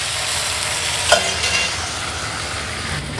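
Vegetable stock poured into a hot pan for braising venison chops, giving a steady, moderately loud sizzle with a brief sharper hiss near the start and no talk.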